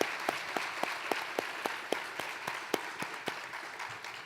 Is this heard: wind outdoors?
no